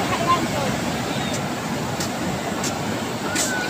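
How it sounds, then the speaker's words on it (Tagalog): Strong sea waves crash and wash in a steady, broad roar at a beach, with wind buffeting the microphone throughout. "Ang lakas ng alon"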